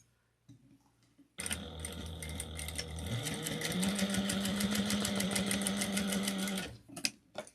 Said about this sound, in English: We're going to top stitch this at 1/8 of an inch.